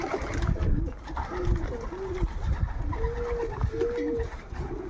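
Pigeons coo softly and repeatedly, several low, rolling calls close by over a faint background rustle.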